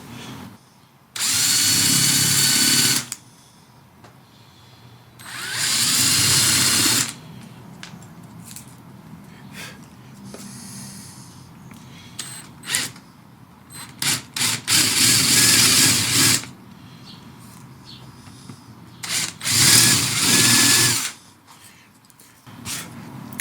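A power drill bores holes in a wooden part of a banjolin, with four loud bursts of whirring drilling separated by quieter pauses with small handling clicks and knocks.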